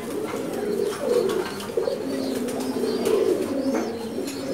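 Large pigeons in a breeding loft keep up a continuous low cooing, several birds overlapping in rolling, pulsing phrases nearby, with faint higher chirps now and then.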